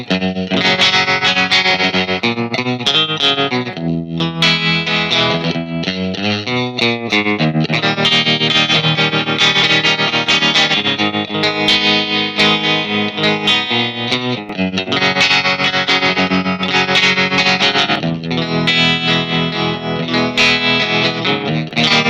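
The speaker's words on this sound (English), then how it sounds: "The tremolos in both amps are quite different." Distorted electric guitar chords played through a Gibson GA-15RVT amp with its tremolo effect pulsing and wavering, loud and continuous with no talking.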